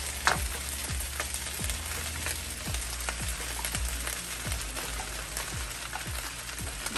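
Crawfish fry in a hot pan with bacon for seafood fried rice, giving a steady close sizzle broken by regular scraping stirs roughly every half second, with no talking.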